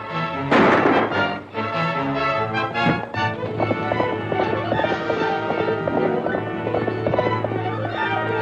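Horse hooves clip-clop steadily with a brief neigh, layered under a loud orchestral Western score in a 1938 Roy Rogers cowboy film.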